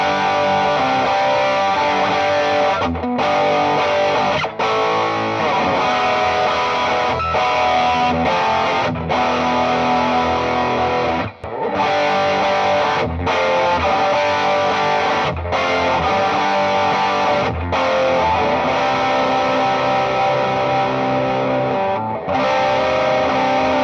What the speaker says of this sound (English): That's more of like a high gain overdrive, almost like distortion.